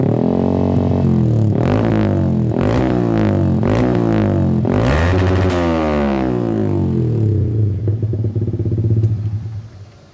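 A Yamaha MT15 motorcycle with a loud aftermarket racing exhaust revs hard in repeated blips, each rising and falling, then settles into a rough idle before tapering off; close and loud, with no talking.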